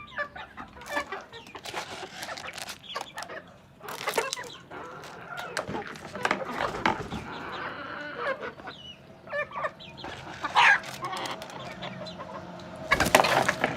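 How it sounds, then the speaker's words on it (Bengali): A flock of native desi village hens being fed scattered grain cluck and squawk in short irregular bursts, with a rooster now and then, close by over rustling and scattered grain sounds. "দেখতেছেন মুরগিরা খুব ভালোভাবেই খাচ্ছে"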